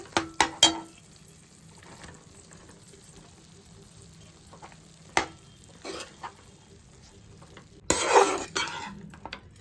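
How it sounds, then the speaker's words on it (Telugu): Cooked, cooled rice is mixed by hand or spoon into raw mango pulp for pulihora, with a few soft clinks and squelches scattered across a mostly quiet stretch and a louder burst near the end. "ముందుగా మనం రైస్ వండుకొని చల్లారబెట్టుకొని ఇప్పుడు మనం కలిపేసుకుందాము. ఈ గుజ్జులో కలిపేసుకుందాము."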